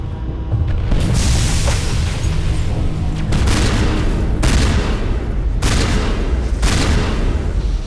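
Rocket explosions in the Mass Effect video game boom repeatedly, several heavy blasts at roughly one-second intervals, loud and close, with rumbling debris between them.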